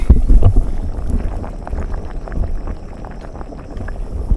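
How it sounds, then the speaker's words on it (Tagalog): Low, churning bubbling of water from gas rising underground, with irregular gurgles and splashes, fairly close, under a steady rumble of wind against the microphone. "Kumukulo sa ilalim."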